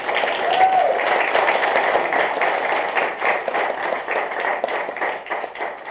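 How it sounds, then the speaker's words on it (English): Audience applause inside a church, a steady wash of many hands clapping at close range that holds for several seconds and fades only slightly toward the end, with no talk over it. "give her a round of applause."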